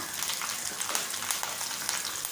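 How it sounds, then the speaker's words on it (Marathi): Chili pieces and curry leaves fry in hot oil for kanda poha, giving a dense, continuous sizzle with crackling bursts, close and fairly loud, with no talking. "आपण याच्यामध्ये मिरचीचे तुकडे टाकून घेऊया, कढीपत्ता"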